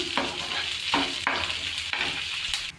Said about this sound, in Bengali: গোটা শুকনো লঙ্কা এনে ফ্লেমটাকে একটু হাই করে দিলাম।